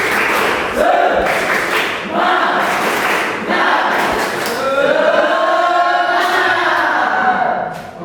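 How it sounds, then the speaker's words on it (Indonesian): A class of secondary students in an Islamic school classroom performs a rhythmic group spirit clap, bursts of claps and thumps repeating in a patterned beat, with voices chanting and calling out loudly alongside. "Oke, kita sama-sama tepuk semangat."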